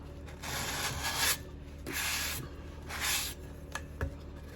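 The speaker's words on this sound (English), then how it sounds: "Just go around it very gently, just to give it that buffing" A 40oz Bubba water bottle being gently buffed by hand: three soft, sweeping rubbing strokes, each about a second long, with a few faint taps between them, close and fairly quiet.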